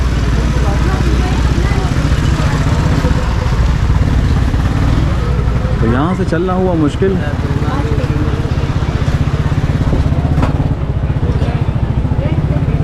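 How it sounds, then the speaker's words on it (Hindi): Two motorbikes idle face to face in a narrow, crowded bazaar street, engines chugging loudly and continuously close by while someone speaks over them. "तो देखिए हम दोनों आमने सामने खड़े हो गए हैं, दो बाइकें आपस में नहीं गुजर सकती"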